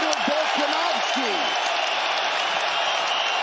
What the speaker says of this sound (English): A standing ovation from the capacity crowd in Perth, Western Australia.